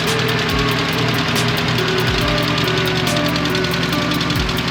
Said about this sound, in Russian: Открываем моторный отсек. Слышим отчетливый стук.